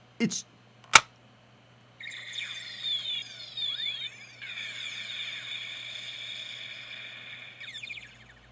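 Two sharp clicks, then a bright electronic toy jingle with rising synth tones and a warbling melody, played close and alone, from a Dino Buckler toy transformation belt buckle.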